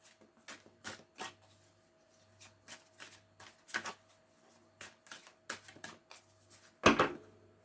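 Oracle cards shuffled by hand during a tarot-style reading, a quick run of soft papery riffles and taps in short bursts with pauses, ending in one louder slap of the deck, no voice.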